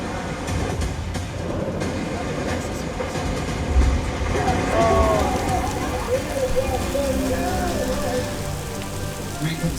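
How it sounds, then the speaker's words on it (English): Sprinkler heads on the Universal Studios nighttime studio tour spray an artificial rain shower that hisses and patters steadily on surfaces, swelling slightly midway and keeping a constant rushing downpour throughout. "Rain comes straight up at our sprinkler heads and arcs down going to mimic the real flow of rain"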